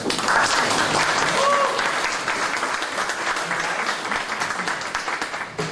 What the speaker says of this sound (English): please give Vito a big round of applause